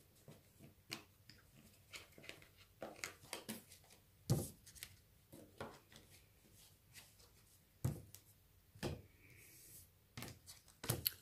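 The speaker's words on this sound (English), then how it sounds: "So I'm just going to shuffle the cards." Tarot cards being shuffled by hand, quiet papery riffles and rubbing strokes that come in irregular bursts with pauses between them, close and soft.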